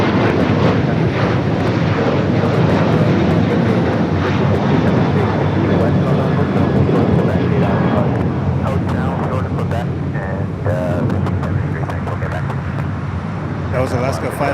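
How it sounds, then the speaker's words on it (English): An Alaska Airlines Boeing 737-900ER jet passing at LAX, bound for Portland, makes a loud continuous engine rumble that holds steady before thinning slightly toward the end, while people talk over it. "That was Alaska 578 going to Portland on a Boeing 737-900ER."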